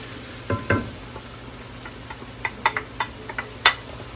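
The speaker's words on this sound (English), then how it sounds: "You're gonna hear my favorite sound, which is the sizzle of adding something to a pan." Soft frying sizzle of parsley in a pan, with scattered clicks and taps as a wooden spoon stirs, fairly close and moderately quiet.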